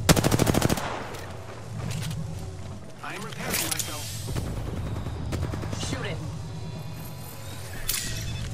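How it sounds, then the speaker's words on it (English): Rapid automatic gunfire from a team shooter video game, sharp bursts and scattered shots with mechanical clatter, busy and layered throughout, with brief voice chatter mixed in. "I am taking fire, friends"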